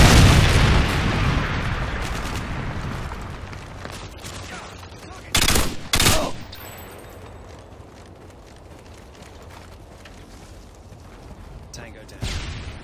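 Modern Warfare 2 combat: a dense burst of rapid gunfire up front, then two heavy explosion booms in quick succession midway, and another blast near the end, with a voice talking over the fighting.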